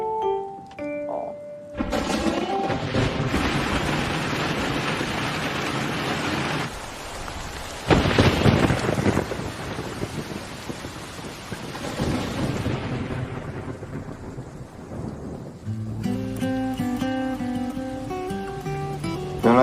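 A thunderstorm with steady, heavy rain pours down, and a loud thunder rumble swells near the middle before the downpour eases into a calmer patter and quiet tones at the end.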